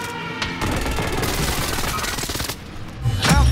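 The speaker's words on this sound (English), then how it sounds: "Be advised, friendly precision airstrike inbound." Precision airstrike explosions in a video game: a dense, rolling burst of blasts and rapid gunfire-like cracks fills most of the clip, dropping briefly before a final loud boom near the end.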